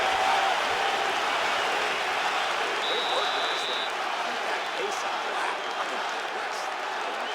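A crowd in the EA Sports UFC 5 video game applauds and cheers steadily in a broad wash of noise, with a brief round-end buzzer tone partway through.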